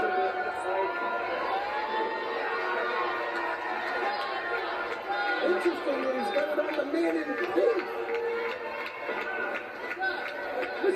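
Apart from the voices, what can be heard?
wrestling crowd cheering and chanting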